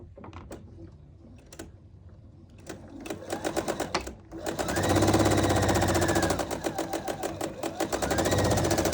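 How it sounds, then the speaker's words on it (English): Sewing machine stitching a quilt seam, starting with scattered clicks and short runs, then settling into a steady, fast, close mechanical whirring hum with brief speed changes. "now I'm gonna go ahead and sew that seam on that side."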